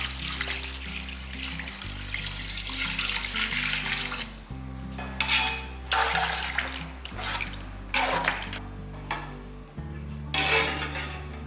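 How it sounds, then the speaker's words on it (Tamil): About a litre of water splashes and gushes in bursts into a cooking pot for mutton curry, with steady background music underneath. "நல்லா 1 லிட்டர் அளவுக்கு தண்ணி ஊற்றிடலாம்"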